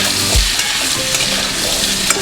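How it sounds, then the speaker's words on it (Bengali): Banana stem, pumpkin and potato are stirred in a hot pan, giving a steady, loud frying sizzle with a brief scrape of the spatula, and no voices. "ঢেলে দিয়ে ভালো করে নাড়াচাড়া করবো।"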